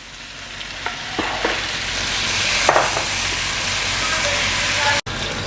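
Chopped, peeled tomatoes fried in a pan with cooked spices for restaurant-style chicken karahi give a continuous loud sizzle, with a few stirring scrapes and clinks over the frying.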